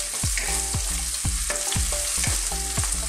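Onion and tomato sautéing in a pan sizzle steadily for Filipino ginisang repolyo, while a spoon scrapes and stirs in a quick, regular rhythm close up. No voices are heard.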